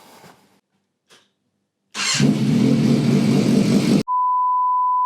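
After an oil change, a 1998–2002 Yamaha 600 Fazer motorcycle engine fires up following a few faint clicks and runs loudly at a rough idle for about two seconds, then cuts out as a steady electronic beep tone begins.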